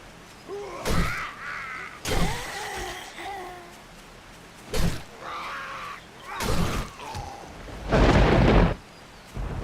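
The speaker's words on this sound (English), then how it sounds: "that thunder noise went weird" Thunder rolling in the 7 Days to Die Ravenhearst mod world, arriving as several heavy broadband bursts with rumbling tails over rain-like noise, the last crack loudest and longest, with a brief voice mixed in.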